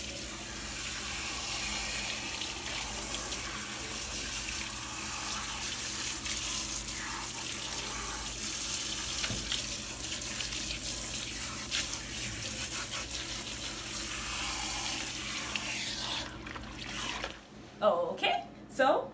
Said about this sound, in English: So now we're going to come on over to the shampoo bowl so that I can rinse this conditioner out.